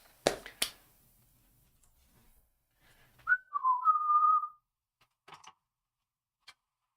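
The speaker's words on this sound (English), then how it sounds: "Who's gonna play the whistle?" A single short whistle note, a clear wavering tone lasting about a second, rises out of near silence between a few sharp clicks and taps.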